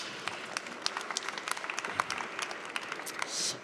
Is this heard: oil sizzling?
no